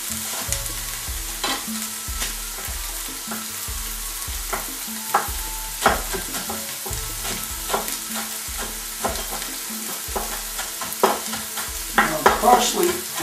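A small onion cooks in a pan, giving a continuous close sizzle broken by repeated scraping stirs and clinks of a utensil at a fairly regular pace, with no voices.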